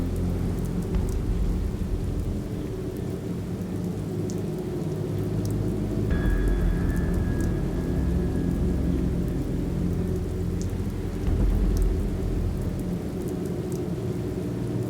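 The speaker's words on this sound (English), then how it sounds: "It's raining again." Steady rain pours throughout a stormy scene in the video game The Moment of Silence, with low rolling thunder swelling in the background and a louder rumble near the end.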